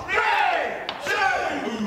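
Spectators in the arena react together as a snooker match plays out at a professional shootout event, a brief swell of crowd noise and voices that dips for a moment and then rises again.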